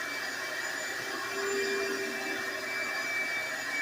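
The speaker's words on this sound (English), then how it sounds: "he's getting this vacuumed out" A vacuum cleaner runs steadily while cleaning out the dirty interior of a Ford LTD, a constant whining motor drone at close range with no talk.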